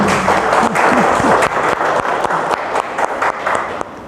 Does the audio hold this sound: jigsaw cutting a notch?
no